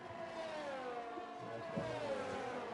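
Racing cars in a video game pulling away together at Zandvoort after a virtual safety car period, engines rising in pitch as they accelerate, fairly quiet, with some faint mechanical whir.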